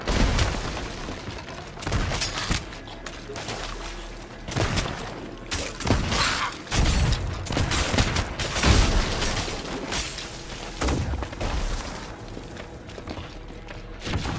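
Pistol gunfire in a Sea of Thieves pirate battle: repeated sharp shots and booming thuds in irregular bursts, loud and close, over a busy rumbling game background.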